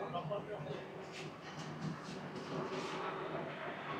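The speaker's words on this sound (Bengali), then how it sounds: "হাইলাকান্দি স্টেশনের 1 নম্বর প্ল্যাটফর্ম থেকে ট্রেনটি ছেড়ে যাচ্ছে তার পরবর্তী হল্ট ভৈরবী জংশনের উদ্দেশ্যে।" A train pulls away from platform 1 at Hailakandi station, a faint, steady low rumble of rolling wheels with soft rhythmic clatter.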